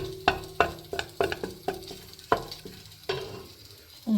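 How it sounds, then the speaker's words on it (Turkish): Flour being toasted in a pan for Turkish yogurt soup, a series of sharp scraping stirs against the pan over a soft sizzle, close and uneven in rhythm, with no talking. "Şöyle azıcık un ekleyeceğim. Kavuracağım. Unun kokusu gitsin."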